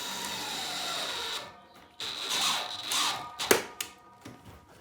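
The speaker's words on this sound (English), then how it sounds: "have it on lower speed on your drill, lots of torque" Cordless drill turning a TRV tail driver at low speed while fitting a radiator valve tail: a steady whirring motor for a second or so, then a short pause and further whirring bursts with a few sharp knocks, heard up close.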